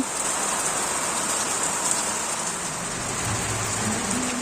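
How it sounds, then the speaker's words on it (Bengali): Rain pours down steadily, a dense even hiss of drops hitting surfaces close by, constant throughout with a faint low hum near the end and no talk. "তারপরেই তো নামলো বৃষ্টি"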